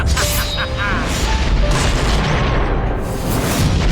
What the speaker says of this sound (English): There are a lot of fire effects.